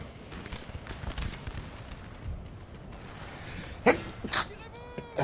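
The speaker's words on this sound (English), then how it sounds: "And I sneezed again while recording." A single sharp human sneeze near the microphone, sudden and loud, rising out of a dull background rumble of game sound and muffled noise.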